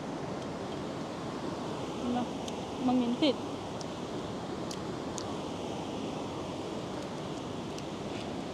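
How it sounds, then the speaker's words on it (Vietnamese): A babbling stream flows steadily outside during a simple meal on a stream bank in the northwestern Vietnamese highlands, a constant soft wash that persists throughout while a voice speaks briefly over it. "Vừa ăn cơm mà vừa nghe thấy tiếng suối róc rách ở ngoài nữa."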